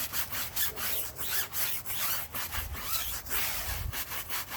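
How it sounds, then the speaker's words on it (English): A stiff-bristled brush scrubs a tire in quick, repeated rasping strokes, close and steady, with no voices. "I'll hit the tire again with the stiff bristle brush"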